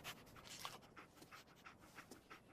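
Dog panting in the Fallout 4 video game, faint quick breathy pants in a steady rhythm, close and alone with no talk.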